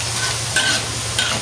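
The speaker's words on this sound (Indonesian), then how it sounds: "Menggorengnya harus betul-betul kering supaya tahan lama dan tidak melempem." Tempeh fries in hot oil for kering tempe, giving a dense, steady sizzle with brief scraping stirs from a utensil, loud and close.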